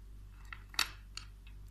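Scissors cut through crochet yarn nearby, giving a few quiet snips with one crisper, sharper cut in the middle, set against a low background hum.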